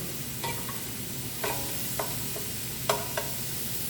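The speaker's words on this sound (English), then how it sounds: "So we're gonna brown up the ground meat." Ground meat browning in a pan for lasagna soup, with a steady soft sizzle beneath a few sharp scrapes and stirs from a spatula, close by and with no talking.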